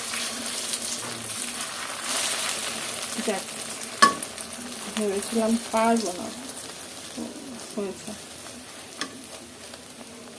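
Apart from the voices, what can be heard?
eggs frying in oil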